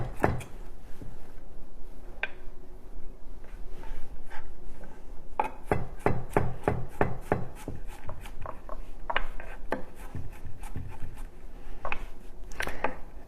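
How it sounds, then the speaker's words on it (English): A knife roughly chops garlic for a shrimp dish, sharp close thuds on a cutting board coming in irregular bursts that speed into quick runs of strikes, with no voices. "Just a nice rough chop on your garlic."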